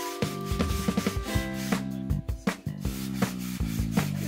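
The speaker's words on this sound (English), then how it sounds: "And then I'm just sanding this down" Rhythmic scraping strokes of sandpaper rubbing against a wooden pole, close and repeated in quick back-and-forth passes, with no voices.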